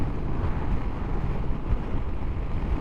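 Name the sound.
blustery wind while riding a motorbike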